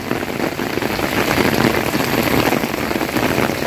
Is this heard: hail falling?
yes